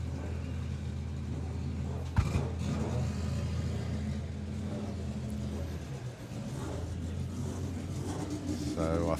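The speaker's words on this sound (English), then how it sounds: "Two of our four-cylinder racers." Four-cylinder drag racing cars accelerate in a steady, sustained engine roar heard from a distance at a drag strip, with the crowd and a commentator's voice faintly in the background.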